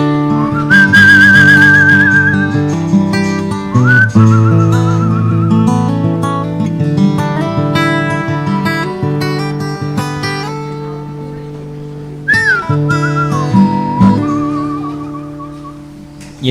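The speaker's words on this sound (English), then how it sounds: "You know it's a cowboy tune when there's whistling involved." A melodic whistled cowboy tune rises and falls over a backing of steady music chords, clear and close, in a relaxed western style, performed live in a barn in Sigourney, Iowa.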